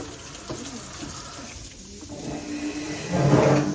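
Water runs from a tap while breakfast is cooked with sausages, a steady close hiss of flowing water that swells louder toward the end, with faint kitchen clatter.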